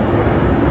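An airplane taking off at an airport, part of a back-to-back run of departures, gives a loud, steady jet roar that fills the whole moment.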